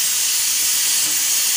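A pressure cooker hisses steadily with escaping steam while cooking dal for dal fry, a loud, continuous, close hiss with no talking.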